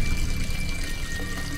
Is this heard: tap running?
yes